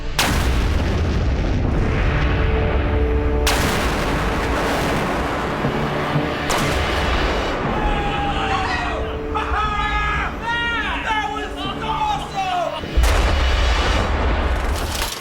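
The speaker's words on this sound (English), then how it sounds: "Given that that's the biggest explosion we've ever done, why isn't it the fan favorite?" A huge blast from 5,000 pounds of ANFO explosive detonated outdoors, a loud rumbling boom that sustains and rolls for many seconds with crackling debris, then a second heavy burst near the end.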